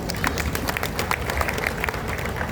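An audience gathered at a religious discourse event applauds together, a steady wash of many hands clapping at moderate distance, continuous through the short stretch without a voice over it.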